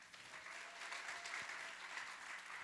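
Applause from a congregation at a Sunday chapel service in a church, a steady continuous clapping that fills the room at moderate volume, with no voices standing out over it.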